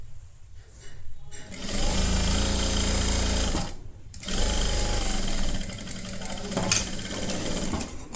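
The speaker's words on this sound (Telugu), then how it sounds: "స్టిచ్ చేసేసుకోండి." A sewing machine stitches the side seam of an A-line kurti in loud, close, sustained whirring runs. It pauses briefly twice and then resumes, with a little faint talk in the background.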